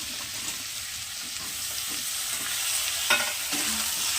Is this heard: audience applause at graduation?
no